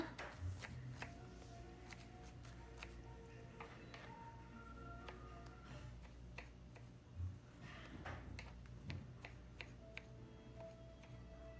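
A knife chops a small onion, a small tomato and a few green chillies on a board for cucumber chutney, with faint, irregular taps scattered throughout, quiet and close.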